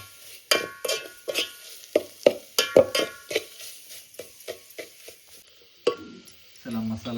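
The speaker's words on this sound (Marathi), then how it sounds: "मसाला परतवून घ्यावा लागतो ना हो, हो. परतवून घेतलं की छान चव सुटते परत तेल सुटेपर्यंत परतवून घ्यायचं" Masala for a traditional Bangada fish curry is stirred and sautéed in oil in a pan. A spatula scrapes and knocks in a steady rhythm over a soft sizzle, close and fairly loud, with brief voices near the end.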